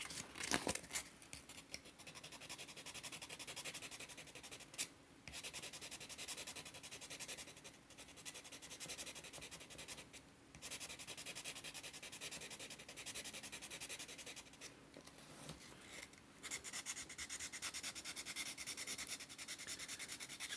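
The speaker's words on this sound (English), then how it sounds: "It's going to take a little bit to sand that pin down." Steady, continuous abrasive rubbing of sandpaper against a metal pin on a 4-inch Bear and Son Barlow pocket knife, close and unbroken apart from a few brief pauses between strokes, with no talking.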